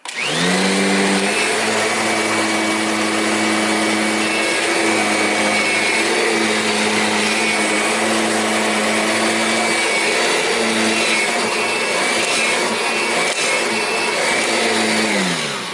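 A Kirby self-propelled vacuum cleaner running on a floor, a loud sustained motor whine with a steady droning hum that holds level for the whole stretch, close by with no talking.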